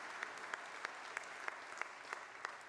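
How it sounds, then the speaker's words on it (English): Faint, steady applause from an audience honoring a colleague named Fred for his work, a continuous wash of many hands with a few sharper claps standing out at regular intervals. "Let's give him another round of applause for his exceptional"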